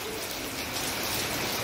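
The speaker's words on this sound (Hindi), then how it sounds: "ये बारिश देखो कितना अच्छा लग रहा है मौसम" Rain falling outside a balcony near Vagator beach in Goa, a dense, steady hiss of drops that stays constant throughout, with no speech.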